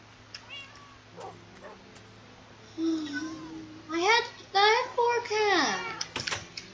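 Cats in Minecraft meow several times in a row, each call rising and falling. The meows are fairly loud and close, and a little soft noise comes before them.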